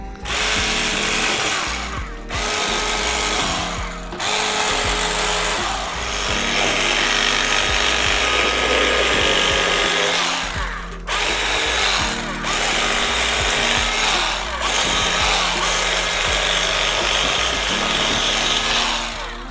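An electric fillet knife cuts through a sheepshead fillet, a loud, close, buzzing motor whine running almost nonstop, broken by a few short pauses as the blade is lifted and set back in.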